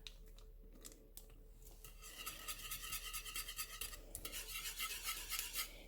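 Butter being stirred into a vanilla cream pie filling for a coconut banana cream pie, a steady scraping and swishing of a utensil against the pot that grows busier and more rhythmic partway through.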